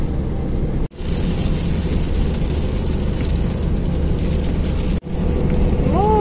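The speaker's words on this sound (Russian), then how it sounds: "Мы попали в зону дождя." Dense, steady roar of heavy rain drumming on a car while it drives on the road to Issyk-Kul, with road rumble underneath; two brief dropouts break the noise.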